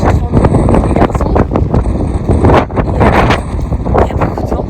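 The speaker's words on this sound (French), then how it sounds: "Il y a beaucoup de vent." Strong wind buffets the microphone outdoors on a road trip, a loud, continuous roaring rumble with gusting surges throughout and no clear speech.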